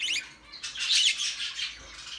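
Pet birds chirping and squawking close by, a few bright, high trills and sharp calls in short bursts, fairly faint and without talk.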